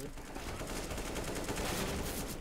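Gunfire in the video game CS:GO rattles continuously as a dense, even barrage filling the whole moment, with no clear pauses.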